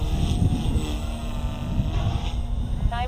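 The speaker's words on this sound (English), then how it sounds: "This is such a great helicopter." A Blade Fusion 180 Smart RC helicopter flies with a steady, close, continuous rotor and motor drone that holds a constant whining pitch throughout.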